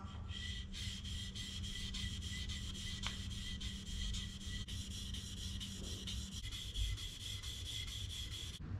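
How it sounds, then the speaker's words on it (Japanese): A cloth rubs steadily over a matte black spray-painted surface coated with acrylic matte clear, giving a faint, continuous scrubbing swish with no talk. "布でこすります"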